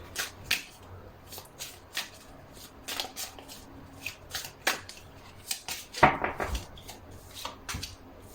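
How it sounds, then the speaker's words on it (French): Tarot cards laid down one after another on a table, a steady run of crisp flicks, slaps and soft shuffling at close range, alone with no talk. "je vais mettre des cartes pour que vous puissiez bien tout voir finalement"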